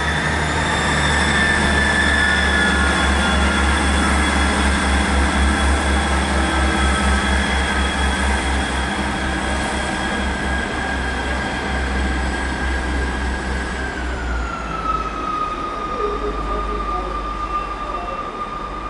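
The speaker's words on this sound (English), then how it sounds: "So off goes 158774," Train 158774, a diesel multiple unit working the 13:35 to Peterborough, departs Lincoln station. Its engine drones loud and close with a throbbing rumble and sustained whining tones that shift pitch as it pulls away.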